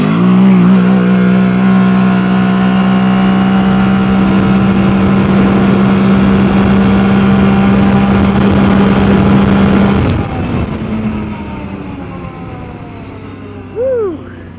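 A Can-Am Outlander or Renegade ATV fitted with an STM Rage 3P primary clutch accelerates hard, its loud engine drone holding a steady high pitch for about ten seconds, then easing off and fading as the machine pulls away.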